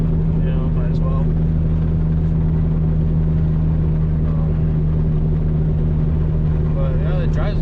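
A Chevrolet Cobalt SS/SC cruises in fourth gear on a cold day, its engine and road noise forming a steady, even low drone from start to finish, with a faint voice underneath.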